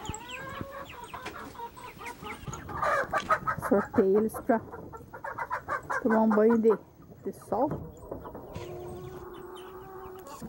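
Chickens and roosters, including a red speckled rooster, cluck in a farmyard with repeated close clucks and calls. Someone talks over the birds.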